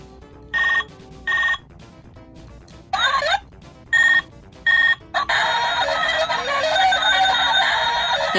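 A bootleg Dragon Ball Z Goku toy phone plays a tinny, distorted electronic ringtone version of a song, starting in short beeping bursts and then running on continuously.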